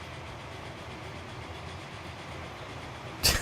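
A train runs in the video game Transport Fever, a steady low rumble with faint rhythmic clatter, ending in a brief loud burst.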